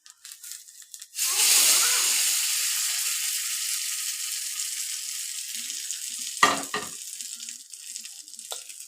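Tempering sizzling in hot oil for coconut chutney: a sudden loud hiss after a second, settling into a steady crackling fry with a couple of sharp utensil clinks near the end.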